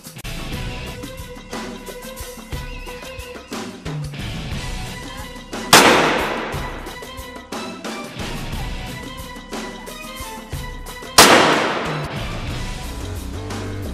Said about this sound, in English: We use 9mm Uzi to fire 2 shots on the bulletproof helmet.